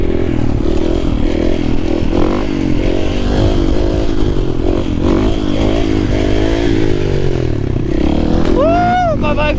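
Motorcycle ridden hard on a road while the rider drags a hand along the pavement, a steady loud engine drone with scraping grit underneath, rising revs near the end.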